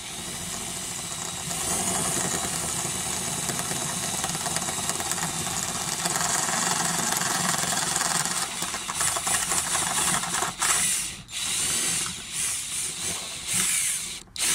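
A power drill boring holes in the body of a Peugeot 206 GTI/S16 to mount a rear spoiler, a steady close whine for about ten seconds, then stopping and restarting in short bursts.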